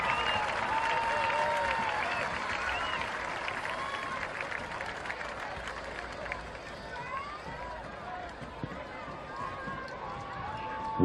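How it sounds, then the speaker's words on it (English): A high school football crowd applauds the band at halftime with sustained, dense clapping and cheering spread across the stands, with voices mixed into the roar throughout. "let's have one more round of applause for the pride of Westfield"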